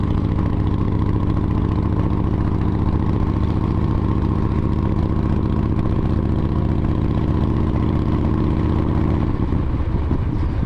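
A Big Dog motorcycle engine with a 585 cam idles loud and close with a deep, steady, throbbing rumble and slight clatter, changing character near the end.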